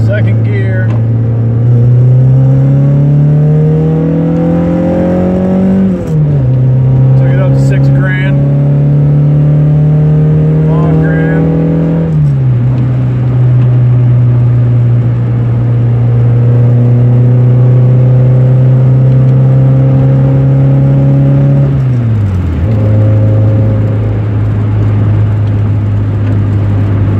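A high-compression B18 engine in a Honda Civic EM1 pulls hard in second gear, its loud, steady drone rising through the revs, dropping briefly at each of several shifts, then climbing again, close and continuous throughout.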